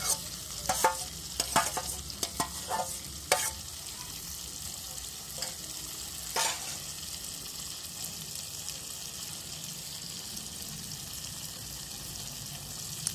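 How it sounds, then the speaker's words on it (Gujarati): Roasted eggplant mash (ringan no olo) stirred in a kadai, with a few scraping clatters of the spoon early on, then a quiet, steady sizzle of frying that carries on alone. "તમે રીંગણાના ઓળાને આખા જે વાસણમાં ઠલવ્યું હોય તે વાસણમાંથી તમારે કઢાઈની અંદર એડ કરી દેવાનું છે"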